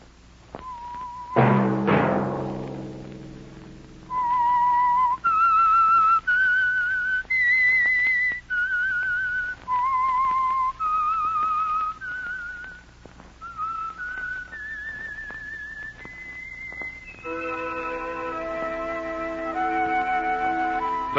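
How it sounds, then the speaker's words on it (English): Whistled theme tune of The Whistler, a vintage radio mystery program: a lone, clear melodic whistle carrying a slow tune of sustained notes, opened by a sharp chime-like strike, with no talking. "Let that whistle be your signal for the Signal Oil program, The Whistler"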